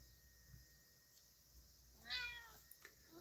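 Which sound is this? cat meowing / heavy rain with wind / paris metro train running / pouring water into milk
cat meowing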